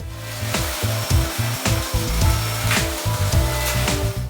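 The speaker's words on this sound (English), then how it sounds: "It's a little machine that spins, kind of spinning blades, shatters them more than cracking really." A small cocoa bean cracking machine with spinning blades shatters roasted beans ahead of a vacuum winnower, giving a steady loud whirring grind broken by repeated rattling bursts, close and continuous without talk.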